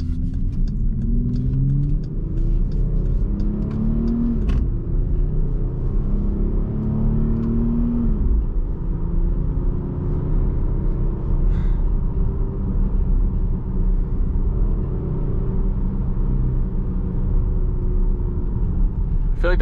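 A Jeep drives along a road, heard from inside as a steady low engine rumble and road noise, with the engine note rising and falling slightly, under intermittent talk.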